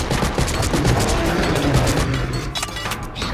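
Dense, loud gunfire from the horror video game The Suffering, shots fired in quick succession against creatures amid fire, with continuous rattling volleys and occasional heavier booms.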